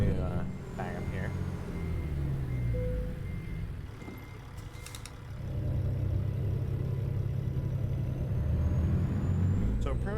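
Freightliner FLD truck in American Truck Simulator idling and rumbling low, with reversing beeps and air-brake hiss, the engine swelling louder as it pulls away; someone talks over it.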